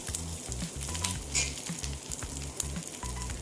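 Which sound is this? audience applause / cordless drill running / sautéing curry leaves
sautéing curry leaves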